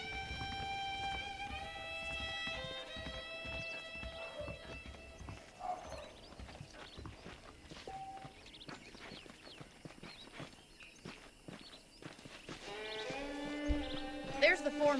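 Horse hooves clip-clop in the Red Dead Redemption video game, with a soft, irregular patter of steps under game music and ambient sounds, while voices speak over it.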